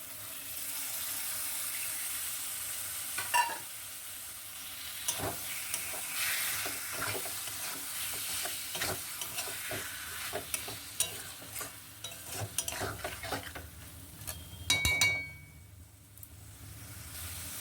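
Yogurt-and-salt marinated chicken pieces fry with cooked-down spices in a pan, a steady close sizzle broken by repeated scraping stirs and clacks. A louder spatter flares near the end.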